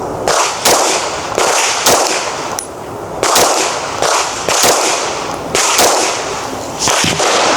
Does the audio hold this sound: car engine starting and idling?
no